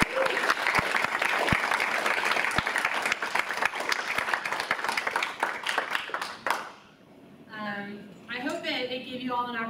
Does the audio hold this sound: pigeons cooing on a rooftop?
no